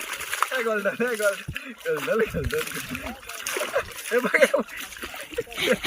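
A dog splashing and paddling while swimming in a village pond, with choppy, irregular sloshes of water close by, heard under almost continuous talking from people nearby.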